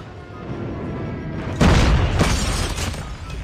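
An airstrike explosion in a mobile shooter game lands as a sudden loud boom partway through, then rumbles on with a second blast-like burst over steady game noise.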